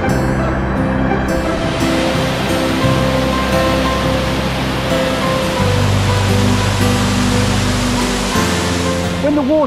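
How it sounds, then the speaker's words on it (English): A waterfall pours steadily, producing a dense, constant rushing roar of smashing water that stays loud and unbroken throughout. "beautiful but marginally quieter waterfall"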